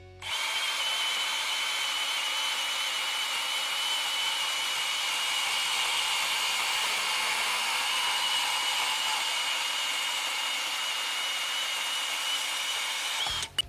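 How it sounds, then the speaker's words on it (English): A cordless Milwaukee M18 FUEL compact bandsaw, brushless, makes one long continuous cut, a loud steady whine close by that starts and stops abruptly with no talking. "And the feel of this bandsaw, it's smooth. Making some awesome smooth cuts, no vibration on this thing."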